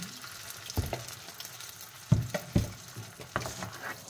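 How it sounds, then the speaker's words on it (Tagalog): Crab sauce poured into a pan of sizzling translucent garlic, a low frying hiss broken by several sharp bursts of splatter and clatter as liquid hits the hot pan, close up with no voices. "Pag ganyan nag-translucent na yung ating garlic o naaamoy na natin, lalagay na natin yung ating sauce"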